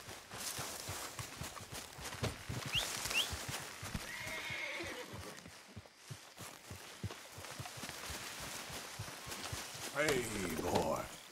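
A horse whinnies over clopping hooves in Red Dead Redemption 2, with people talking over the sounds; a second neigh rises near the end.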